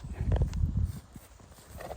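A few heavy, dull hoof thuds of a shod Brabant draft mare walking close by, uneven in rhythm, fading to quieter background noise.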